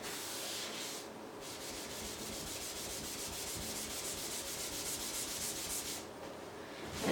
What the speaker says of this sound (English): I'm using both a magic eraser and a piece of sandpaper